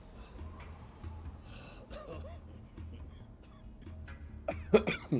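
Someone coughs in a few rough bursts near the end, after quieter breathy, muffled sounds close by.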